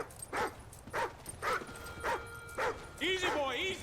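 A dog barks in the video game Call of Duty: Ghosts, a run of six evenly spaced mid-loud barks ending in a whining yelp, over a busy battle background.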